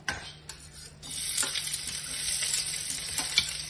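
Onions hit a small amount of oil in a pan and crackle into a steady sizzle, with a few sharp ticks at first before settling into a close, continuous frying hiss.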